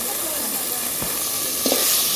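Washed red lentils tipped into a pan of fried spice paste, cooking for a Malabar spinach dal, give a steady sizzle with stirring scrapes and a brief louder hiss of steam near the end.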